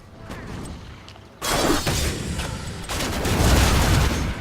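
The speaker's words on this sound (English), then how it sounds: "Yeah, look at that explosion." Explosions from Sylvanas' Withering Fire in Heroes of the Storm, with sudden loud blasts and crackling bursts following a quieter stretch of small pops, then a rumbling, layered barrage that keeps building.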